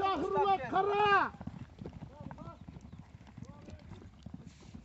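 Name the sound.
horses galloping during kok-boru game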